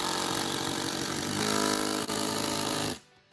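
An impact driver rattles loudly and continuously as it drives a fastener with a Wiha Torx bit, then stops abruptly, leaving near silence.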